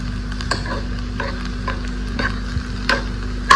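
Crushed eggplant and tomato bharta frying in a pan and being stirred, a steady sizzle with repeated scraping strokes at a regular rhythm, close and fairly loud, no voices.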